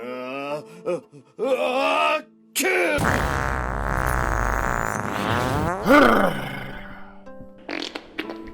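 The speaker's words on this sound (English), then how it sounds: "Episode 1, Dragon Fart." A cartoon dragon fart sound effect plays as a loud, long, low rumbling blast lasting about three seconds, framed by animated grunts, groans and vocal effects before and after.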